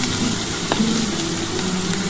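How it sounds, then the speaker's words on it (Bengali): Chopped onions fry loudly in hot oil, a close, dense sizzle with faint stirring scrapes running steadily throughout and no talk. "পেঁয়াজটা একটু ভাজা হয়ে যাক"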